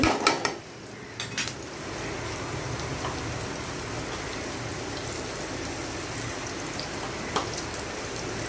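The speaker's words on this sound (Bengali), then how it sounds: "বাহিরে বৃষ্টি অলরেডি হচ্ছে এবং বাতাস হচ্ছে খুব প্রচণ্ড" Rain and strong wind outside a kitchen window make a steady, even hiss of falling drops, with a few faint utensil clinks at the start.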